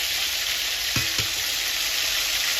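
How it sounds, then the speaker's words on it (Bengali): Ground paste of onion, garlic, ginger, cumin and dried chilli frying hard in oil, a loud continuous sizzle with a couple of brief stirring scrapes near the middle. "মশলাটা আমি ভালো করে নেড়ে চেড়ে নেব"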